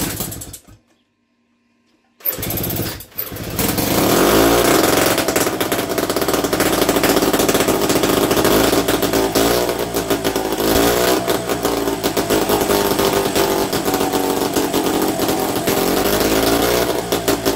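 A small Solex moped engine runs steadily and loudly after a brief silence, with a rattling, buzzing putter that continues without pause.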